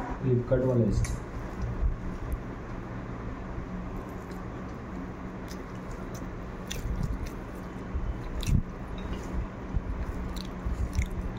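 Someone eating rice with a mashed bean paste and greens, soft wet chewing and squishy bites close up, with a clatter at the start and brief sharp clicks scattered throughout.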